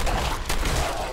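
Gunfire in the video game Fallout 4: a dense, loud burst of shots with booming low-end blasts, crowding the short moment with no break.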